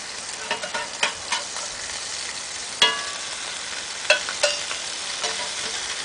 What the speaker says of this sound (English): And our burgers are getting cooked pretty nicely here